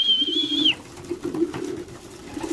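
Pigeons coo repeatedly in soft, low, throaty bursts close by, while a brief high whistle-like tone sounds at the start.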